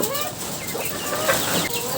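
Chicks in a covered poultry cage during winter, chirping and clucking steadily at close range as a busy, continuous chatter with no talk over it.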